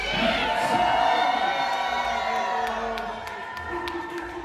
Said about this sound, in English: Crowd, we need y'all to make some noise